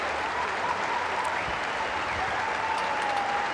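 Steady applause from a tennis crowd at a men's singles match after a match-ending ace, a broad, even clapping wash that holds for the whole stretch with faint murmurs underneath.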